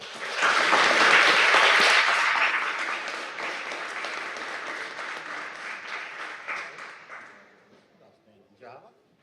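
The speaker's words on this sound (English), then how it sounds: "Please give a round of applause for Harper Cavier." An audience at a school board meeting bursts into loud applause that gradually thins out and fades to scattered claps, with a voice speaking near the end.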